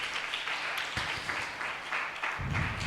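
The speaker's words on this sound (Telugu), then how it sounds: "ఉన్నవారు అందరం చప్పట్లు కొట్టి దేవుని మహిమపరుస్తాం" Congregation at a Telugu church service clapping together in praise, a steady dense wash of applause from many hands throughout, moderately loud and filling the room.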